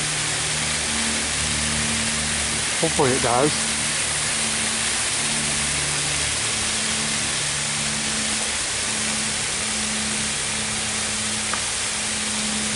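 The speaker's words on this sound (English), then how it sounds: "you can see the water pouring on the tree" Garden shower water pouring down onto a jackfruit tree, a dense, constant hiss of spray that stays steady throughout, with a brief voice speaking over it early on.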